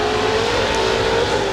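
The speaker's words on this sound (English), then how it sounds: "McDougall heads into pit lane." A 1999 Shell Championship touring race car at Symmons Plains, heading into pit lane, gives a loud, steady engine drone with a sustained tone that holds evenly throughout.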